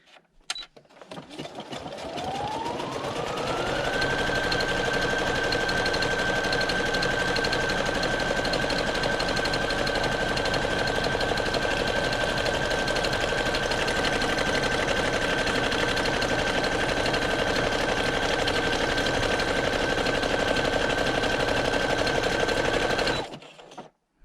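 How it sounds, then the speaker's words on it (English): A domestic sewing machine runs a decorative stitch on a handmade traveller's notebook, spinning up quickly then holding a steady, fast whirring drone for about twenty seconds before stopping. "that's the end of stitching, at least machine stitching."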